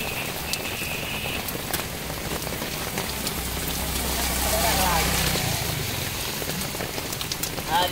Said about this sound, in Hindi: पानी चलन शुरू थी गया क्योंकि बारिश बहुत तेज़ लथी हुई है